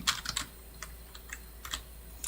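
Quick bursts of clicking keystrokes on a computer keyboard during a live HTML and CSS coding session, close and fairly quiet, in irregular clusters with short pauses, no talking.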